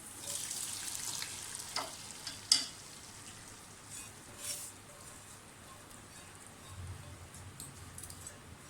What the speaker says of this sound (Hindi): बिल्कुल गोल्डन ब्राउन हो गए हैं लहसुन अदरक का पेस्ट भी, और जो जो स्पाइसेस हमने डाले दाल में शामिल कर दें।